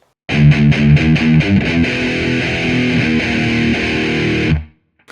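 A heavily distorted electric guitar plays a rhythm riff: palm-muted notes and ringing power chords, loud and close, then cuts off abruptly.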